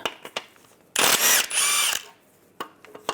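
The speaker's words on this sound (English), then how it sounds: "Now I'm going to take these two bolts out. Use a 16mm socket." A 16mm socket works bolts loose on a 1998-2010 Volkswagen Beetle during a power steering rack job: two loud, close mechanical whirring bursts, with sparse clicks and taps before and after.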